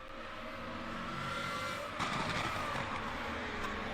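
Race cars roar around a circuit at a distance, a steady engine drone rising and changing pitch as they pass. A sharper burst of noise cuts in halfway through, with no voices over it.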